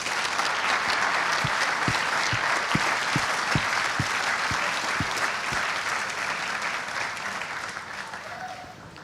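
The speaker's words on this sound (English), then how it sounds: "So yeah, big round of applause for everyone there as well." An audience at a Formula Student awards and closing ceremony applauds loudly and continuously, a dense wash of clapping from many people that tapers slightly toward the end, with no one speaking.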